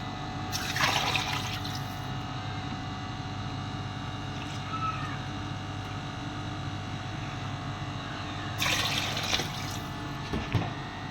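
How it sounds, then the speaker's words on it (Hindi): Water poured from glasses into a pot of beef nihari, two splashing pours at the start and near the end over a steady low kitchen rumble. "आठ से 10 गिलास हमने इस पे पानी डाल दिए"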